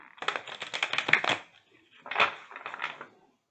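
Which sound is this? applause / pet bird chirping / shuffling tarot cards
shuffling tarot cards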